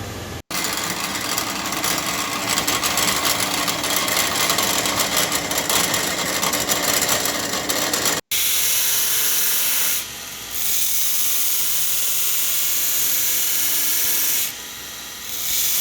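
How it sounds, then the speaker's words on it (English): A power sander, working on a Sears Suburban mower deck blade, runs with a steady loud hiss and whir. It cuts out briefly twice, then carries on as an unbroken close drone with no talking. "That sander's a bad mofo"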